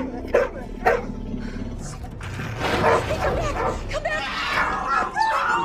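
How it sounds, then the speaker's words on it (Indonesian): A dog barks and yips in short bursts, with whimpering, at an approaching wild animal, mixed with growling animal noise and dramatic sound over a busy background. "tiba-tiba si anjing menggonggong karena seekor hewan buas mencoba mendekati mereka"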